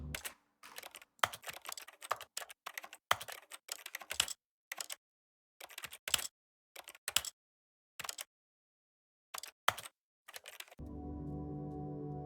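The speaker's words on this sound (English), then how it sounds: "Like, you are furiously typing on the keyboard." Furious computer keyboard typing from The Stanley Parable: Ultra Deluxe, dense clattering bursts of close keystrokes separated by short silences, ending in a steady droning tone.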